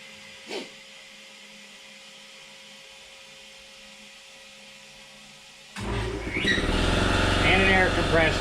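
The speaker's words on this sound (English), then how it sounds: "And an air compressor." An air compressor kicks on after a long, near-quiet stretch with one faint knock. From then on it runs with a loud, steady mechanical drone and rattle until the end.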